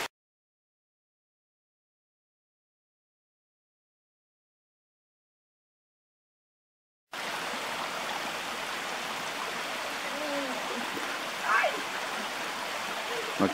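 A flowing stream beside a hiking path, a steady broadband rush of water that begins abruptly halfway through after silence, then continues evenly and fairly close.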